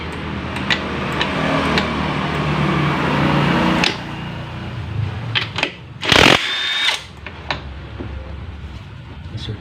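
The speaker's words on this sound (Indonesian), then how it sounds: "Kita gunakan impact. Terus kita buka bagian covernya." Impact wrench loosening the bolts on a motorcycle CVT cover during a service, with bursts of loud rattling hammering, sharp clanks of tools and parts, and one harsh whirring spike near the end.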